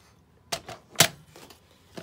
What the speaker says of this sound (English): I'm gonna cut them down.